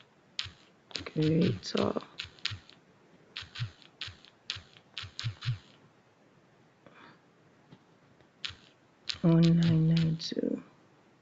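Typing on a computer keyboard in bursts of quick clicks, with pauses between runs, close and moderately loud, while a person talks over much of it.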